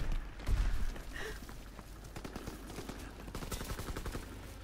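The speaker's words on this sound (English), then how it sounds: "this guy's trying to shoot at me" Gunfire in the video game Call of Duty WW2: a heavy thump early, then a steady rattle of rapid automatic shots at moderate loudness, continuing to the end.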